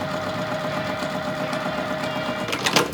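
Sewing machine stitching a quarter-inch seam across quilt pieces, a steady rapid mechanical whir with fine rhythmic needle ticking, close and moderately loud, ending with a short brighter rattle.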